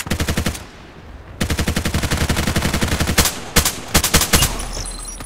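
AUG A3 assault rifle firing in the shooter game Contract Wars: loud rapid automatic bursts, a short gap, a longer burst, then several separate single shots spaced apart.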